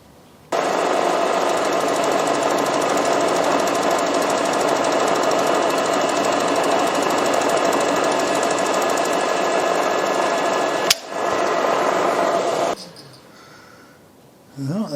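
A machine tool makes its first cut on a Lynx15 build, a loud continuous high whine with a steady grinding hum that starts abruptly, runs for about twelve seconds with one sharp click, then stops.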